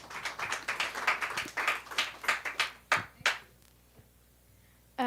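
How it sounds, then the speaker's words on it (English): Audience applause at the opening of a panel discussion on Ugandan politics: rhythmic clapping for about three seconds, then a few final claps before it fades into quiet. "Round of applause"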